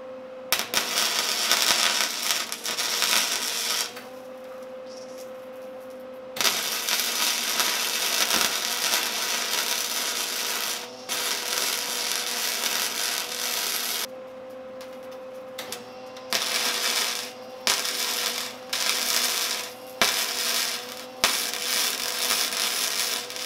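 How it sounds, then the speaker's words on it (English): An angle grinder takes rust off metal before welding a DIY burn barrel, a steady loud whine with a few short pauses and choppy stop-start passes toward the end. "I'm gonna get some of this metal off, this rust."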